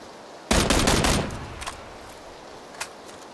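Suppressed Mini 14 rifle fire in PUBG, a loud burst of rapid shots up close followed by a couple of fainter distant cracks.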